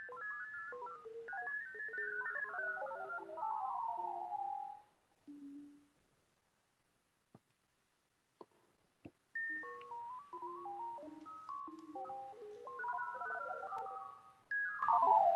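Sonified camera data, an experimental proof-of-concept test, plays as shifting synthetic tones and melodic pitch glides, pausing midway with a few isolated clicks before resuming in a busier run of tones.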